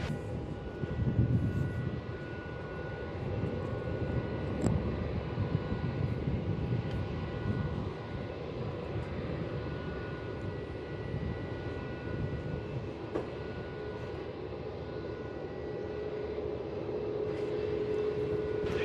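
A Virgin Australia Velocity jet takes off from runway 27 at Melbourne Airport. A broad, steady engine roar rolls on for the whole stretch, distant to moderate and fairly even, with no talk.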